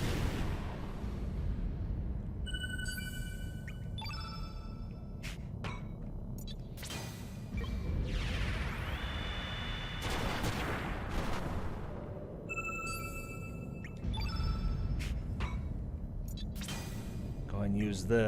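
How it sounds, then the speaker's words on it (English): Rumbling explosions from a Magma Bomb attack in Chrono Cross boom in repeated waves over a low roar, mixed with game effects and music while a voice talks. "Magma Bomb."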